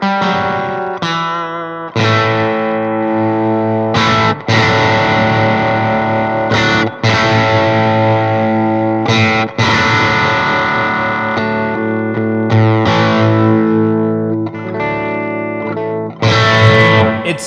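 An electric guitar played through an LSL pedal with heavy, saturated distortion, loud and sustained, with chords struck again and again and ringing out between attacks.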